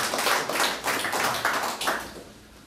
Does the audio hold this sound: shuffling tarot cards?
no